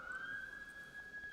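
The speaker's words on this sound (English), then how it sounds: "And there goes the siren." A distant siren sounds as a faint, steady high tone, held level and unbroken under a quiet background.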